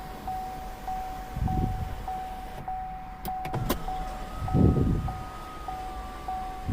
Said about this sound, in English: So now we'll do the same with the sunroof, if it'll let us.